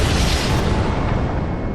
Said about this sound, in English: That was even bigger than the explosion during the exam.